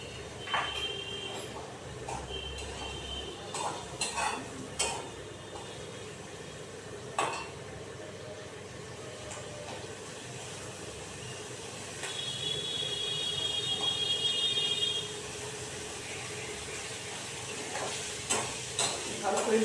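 A spoon stirring dried red chili paste, turmeric and spices in a pan for a Bengali fish curry, with soft scraping and a steady low sizzle continuing throughout, faint clinks here and there.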